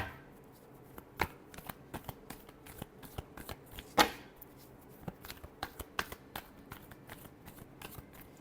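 Tarot cards are shuffled by hand in a string of quick, crisp riffles and slaps at close range, irregular in rhythm with one sharper burst midway, and nobody speaks.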